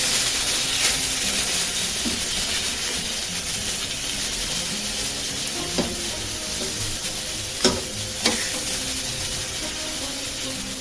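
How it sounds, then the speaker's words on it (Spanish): Picanha searing on a hot griddle, a loud continuous sizzle and hiss with a few sharp pops and taps near the end. "Miren este sellado, lo que ves."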